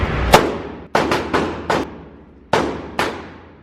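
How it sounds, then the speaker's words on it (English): A Glock 44 pistol fires .22 rounds at a gun range: six sharp, loud reports, each followed by a ringing decay, with the shots coming in uneven bursts. "Glock 44, 22, shooting some 22."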